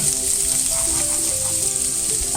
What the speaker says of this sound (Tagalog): onions are so aromatic when it is being sauteed